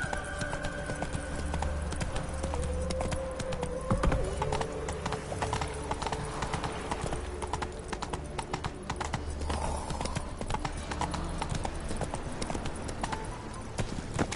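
Horse hooves clip-clop steadily in The Witcher video game, a continuous close rhythmic trotting over a dense game soundscape with a faint tonal drone.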